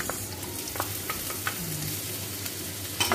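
Potatoes fry with pork liver in a pan, a steady low sizzle running under occasional scrapes and clinks as they are stirred, close and fairly quiet throughout.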